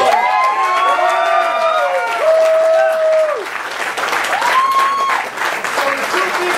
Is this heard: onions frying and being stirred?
no